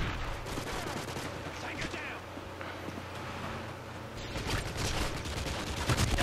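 Gunfire crackles through a sniping match in a shooter video game, with dense bursts and rattling shots mixed into steady game noise while a voice talks over it.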